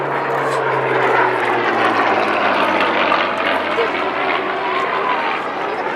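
Curtiss P-40 Warhawk with a liquid-cooled Allison V12 engine flying at an air show, a loud, steady propeller-engine roar that holds without a break, with talk faintly mixed underneath.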